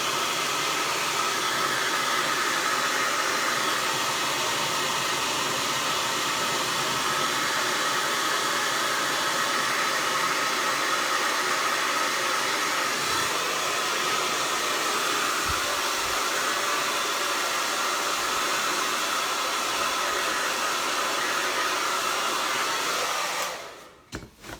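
A hair dryer blows steadily on fresh acrylic paint on a Santa figure's fur, a loud continuous rushing whoosh held for the whole stretch before it switches off abruptly at the end.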